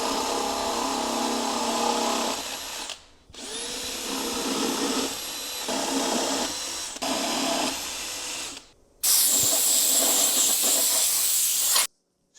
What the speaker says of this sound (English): Now I just have a 1/2-inch spade bit here. Just going to drill out the center.